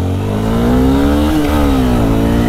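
A motorcycle engine revs loud and close, its steady pitch climbing slightly and holding with no one talking.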